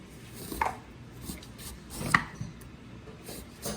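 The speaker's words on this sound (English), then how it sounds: "we're cutting that into squares" Peeled eggplant is cut into squares on a board, giving a few distinct chopping knocks spaced irregularly at close range, with quiet room noise between them and no voices.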